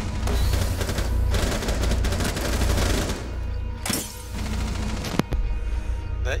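Sustained automatic gunfire from Jaeger's weapon in Rainbow Six Siege, loud dense bursts rattling continuously at close range, then a sharp crack and a thinner tail of shots.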